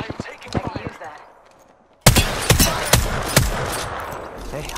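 Apex Legends gunfire: rapid, loud bursts of automatic shots crack out in quick succession, briefly fading before a sudden, closer volley, with voices talking over the fight.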